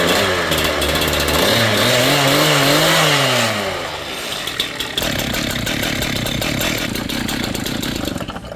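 A Stihl chainsaw with a freshly repaired exhaust muffler, fitted with drilled, tapped oversize bolts, runs loud and close, revving up and down at first and then holding a steady, rasping idle.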